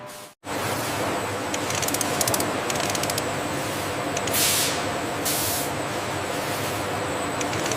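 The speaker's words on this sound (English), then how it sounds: "Layered dye spraying creates depth, replicating authentic leopard coloration with precision control." A steady, continuous hiss of a spray gun misting dye onto leather for leopard coloration, close and even, after a brief pause at the start.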